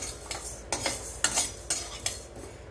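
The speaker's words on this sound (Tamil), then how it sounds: "இது பக்கத்தில் இருந்து மெதுவாக வறுக்கணும்" Moong dal being dry-roasted and stirred in a pan, with a spoon scraping and clinking against the metal in several separate strokes, close and moderately loud, with no talk.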